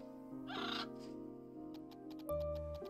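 Gaga bird call from the Little Witch in the Woods video game: a loud, warbling electronic cry with rising and falling tones over a steady game music bed, followed by a sharp run of clicks and another honking burst.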